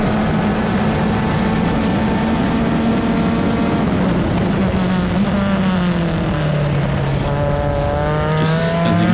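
An IndyCar-series race car engine screams at high revs through a race, a loud continuous whine that drops and climbs as the driver works through corners, with no talk over it.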